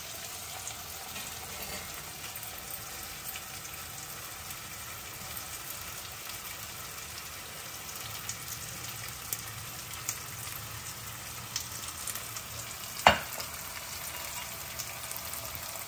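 Onions fry for a prawn curry in a pan, giving a soft, steady sizzle and crackle throughout, fairly faint, with one sharp clink near the end and no voices.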